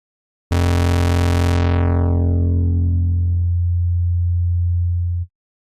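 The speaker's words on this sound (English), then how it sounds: "the signal tends towards a sine wave at the fundamental frequency" A steady, loud synthesizer tone from the u-he Bazille soft synth that starts bright and buzzy, then mellows within a few seconds into a pure, smooth sine hum at the fundamental frequency before cutting off.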